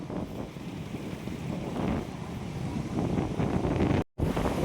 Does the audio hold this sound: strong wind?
yes